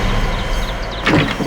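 A house door opening in a quiet indoor scene, a short creak and scrape arriving about a second in over a steady low background hum.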